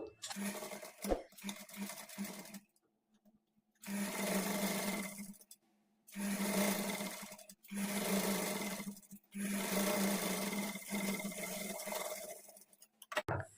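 A sewing machine stitches along a lining seam for thread piping, running in four or five steady bursts of a few seconds each with brief quiet gaps between them, close and fairly soft, with no speech.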